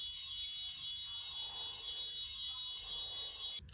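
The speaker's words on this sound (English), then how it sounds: "Whoever pulled the fucking fire alarm." A hotel fire alarm sounds continuously as a steady, shrill electronic tone, holding at an even level throughout with a faint room hum underneath and a brief knock near the end.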